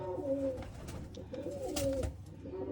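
Pigeons coo in soft, repeated low warbling calls, fairly close, with a steady murmur of background noise and no talking.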